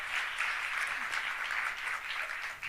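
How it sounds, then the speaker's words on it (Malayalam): A church congregation applauds the choir members and committee, a steady wash of clapping hands filling the room without a break, moderately loud and sustained throughout. "അവർക്കൊരു ഹൃദയം നിറഞ്ഞ ഒരു കയ്യടി എല്ലാവരുടെയും ഭാഗത്തു നിന്ന് സന്തോഷത്തോടെ"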